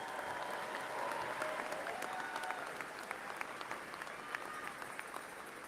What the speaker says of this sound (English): Let's give all of these special guests one more round of applause.